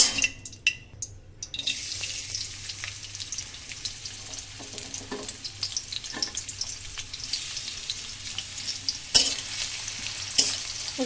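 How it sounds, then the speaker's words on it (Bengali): Onions dropped into hot oil in a wok (kadai), frying for golden crisp birista for pulao; a steady close sizzle and crackle with stirring scrapes and a sharp clink or two, no talk. "পোলাওয়ের বেরেস্তার জন্য প্রথমেই আমরা একটা কড়াইতে তেল গরম করে নিয়েছি। এবারে পেঁয়াজগুলোকে ছেড়ে দিব।"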